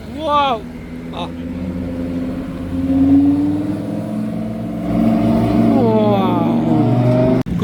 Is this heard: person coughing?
no